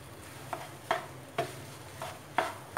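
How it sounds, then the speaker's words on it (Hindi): Potato and semolina mixture being stirred in a pan over low heat, a spoon scraping in a slow, irregular rhythm of soft taps and scrapes against quiet background hiss. "अब हम इन सबको अच्छे से एक बार मिला लेंगे"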